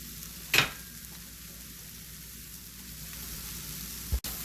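Sweet potato al pastor sizzles steadily in a hot pan, a soft continuous fry with a brief stir clatter near the start and another knock toward the end; no one speaks.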